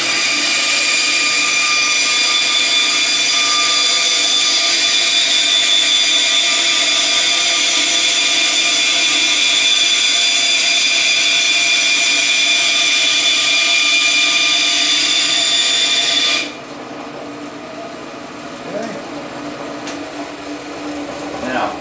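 A power tool cuts PVC pipe freehand, running as a steady, loud, high motor whine for about sixteen seconds, then stopping abruptly and leaving faint handling noises.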